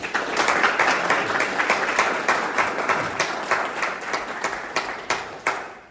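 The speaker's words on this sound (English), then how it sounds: "Could round of applause, please, for Alex?" Steady applause from an audience at a chess seminar, loud and sustained with dense clapping throughout, tapering slightly toward the end.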